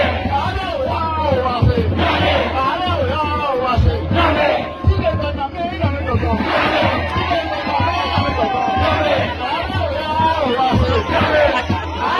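A large crowd of supporters at a rally for Senator Natasha: loud, dense cheering, shouting and chanting voices filling the whole stretch without a break, close and energetic.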